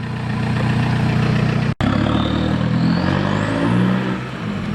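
A car engine idles close by with a steady low throbbing hum, broken by a sudden brief cutout before the idle resumes, and a faint rising whine drifts in toward the end.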